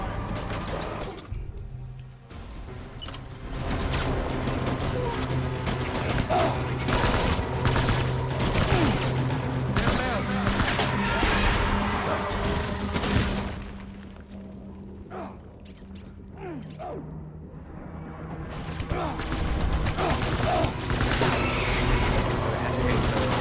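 Video game gunfire in heavy continuous volleys of shots and blasts, dense and loud, with talking over the top and a short lull partway through.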